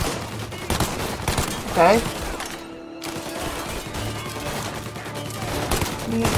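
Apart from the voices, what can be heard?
pistol gunfire in video game Mafia: Definitive Edition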